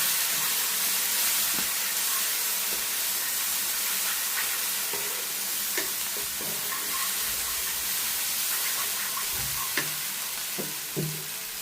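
Spices with salt, turmeric, chili powder and kasuri methi sauté in a pan, a constant bright sizzle with scattered scraping taps of a stirring spoon, close and steady without talk.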